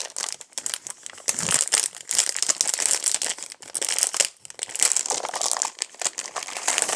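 A sheet of stickers is handled at close range, giving dense, irregular crinkling and crackling of paper and plastic in bursts with brief pauses and no talk.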